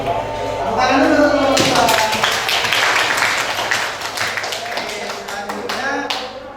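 Classroom of students clapping together in a steady burst of hand claps after a teacher's request, mixed with chatter and voices throughout, fairly loud and close, thinning toward the end.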